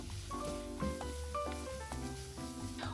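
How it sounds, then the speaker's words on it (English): Chopped clam meat and zucchini stir-frying in sesame oil over medium heat, a steady soft sizzle with light stirring scrapes, under quiet background music. "add 1 tablespoon of sesame oil, then add 2 tablespoons of chopped clam meat and stir fry over medium heat"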